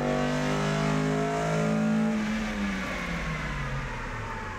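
Modified Acura engine on a dyno, running without nitrous, winding down from a high rev with a falling pitch, loud and steady, close by with no talk.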